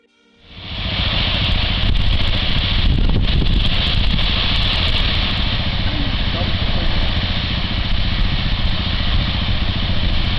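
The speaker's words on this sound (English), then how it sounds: "As the engine roared and the jet blast surged behind," A loud, steady jet engine roar builds quickly and holds at full strength during takeoff, a continuous heavy drone without pause.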